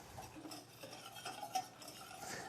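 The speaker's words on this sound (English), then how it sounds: "melt a 1/4 cup of butter in a saucepan, then add a 1/4 cup of flour. Mix it all together. We're making a roux." Butter and flour being stirred together into a roux in a saucepan for moussaka, a soft, steady scraping and swishing that runs close and quiet throughout, with faint utensil taps against the pan.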